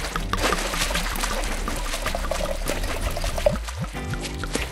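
Water pours into a container for several seconds in a continuous splashing, gurgling stream, close and fairly loud, with no talking over it.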